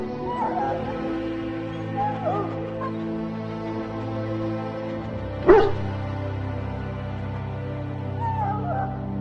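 A dog in the Dragon Age Origins video game gives a brief, high whimpering yelp around the middle, set over a low droning ambient game soundscape that carries on around it.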